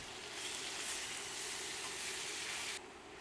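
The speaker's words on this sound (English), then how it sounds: "we can start to add our spinach. And what we're going to do is we're going to do a couple of handfuls at a time. Let it simmer down." Spinach simmering and sizzling in a hot pan, a steady soft hiss with a bubbling undertone that drops off abruptly near the end.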